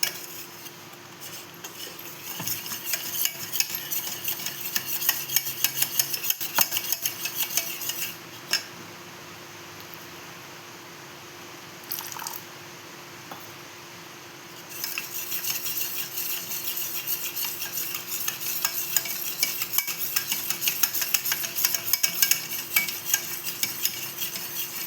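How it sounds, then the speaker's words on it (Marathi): Oreo cake batter whisked in a bowl: continuous rapid scraping and clinking of a whisk against the bowl, with a short lull partway through, close and fairly loud, with no voices. "आधी आपण ह्याला घोटून घेऊया."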